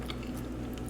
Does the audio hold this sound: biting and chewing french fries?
yes